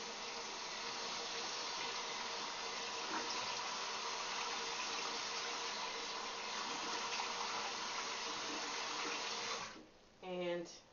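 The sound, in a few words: running water washing face in shower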